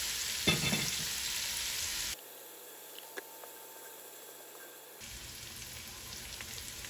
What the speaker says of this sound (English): I'm going to just let this brown up for about 20 minutes